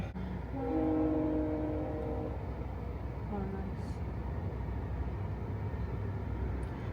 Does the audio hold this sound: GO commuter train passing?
yes